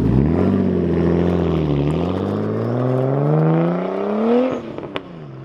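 A Nissan Skyline R34 GTT fitted with a titanium exhaust revs loudly and close, the engine note climbing and holding steady with rich harmonics before cutting off with a few pops and crackles near the end.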